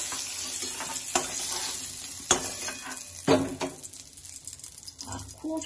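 Light frying of chicken pieces in a little oil in a home kitchen, with a steady soft sizzle broken by a few sharp stirring scrapes and clinks of a spoon against the pan.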